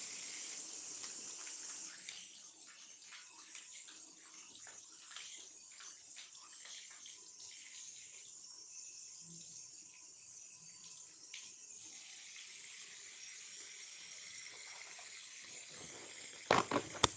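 Running tap water hisses and sprays steadily at close range while a 1982 Gillette Atra Reed and Barton sterling silver razor is rinsed under it, with a louder rush at the start and a small clack near the end.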